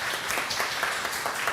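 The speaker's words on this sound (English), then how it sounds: "should we have an early round of applause for both our panelists" A crowd at a Kentucky coal debate applauds its panelists with a brisk, moderately loud round of clapping, individual claps rippling through a steady wash of hands.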